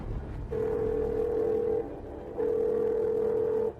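A telephone rings unanswered, two long steady electronic tones separated by a short pause, loud and alone over a low background hum.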